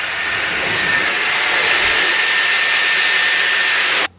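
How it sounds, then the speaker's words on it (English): Dyson Airwrap hair dryer blowing steadily, a loud, close, even airy roar with a faint high whine that runs unbroken for about four seconds and then cuts off abruptly. "we'll see how the hairdryer likes it"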